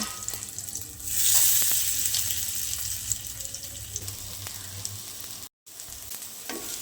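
Steady hissing sizzle of papaya kofta frying in hot oil in a kadai, swelling louder after a second and continuing with a brief gap near the end.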